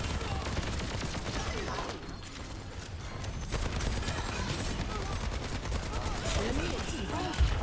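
Sniper rifle fire in a multiplayer shooter video game, heard as continuous loud gunfire and explosive crackle packed under game effects, with no clear single shot standing apart.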